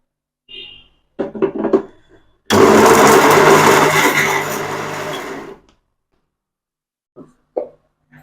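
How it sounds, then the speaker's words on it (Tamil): A mixer grinder whirs loudly for about three seconds in a single pulse, coarsely grinding fish, with clattering knocks before it and a few faint bumps after. "இதை கொஞ்சம் பல்சில் போட்டு உர உரன்னு துரிச்சு எடுத்துக்கலாம்"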